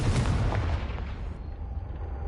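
A single deep booming blast from the Confringo fire spell in Hogwarts Legacy erupts loud and close, then its low rumble decays over about two seconds.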